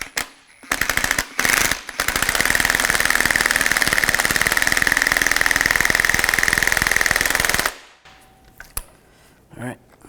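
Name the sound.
tightening strut nut on Chevy Cobalt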